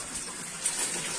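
Water gushes strongly from a pump-free bathroom tap, a steady bright rushing hiss at close range with no talk over it.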